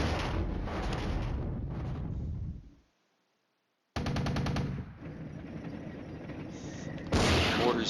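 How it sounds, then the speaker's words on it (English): Mortar strikes in the wargame Flashpoint Campaigns: Red Storm, loud rapid bursts of impacts and firing that cut out into a second of silence, then resume with rattling detonations and a harsher burst at the end. "And another strike from the mortars."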